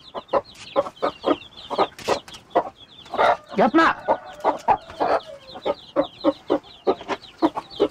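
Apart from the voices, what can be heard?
hen clucking in the coop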